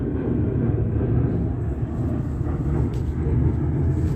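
An aircraft flying low overhead near a museum, a continuous deep rumbling drone that stays loud and steady from start to end.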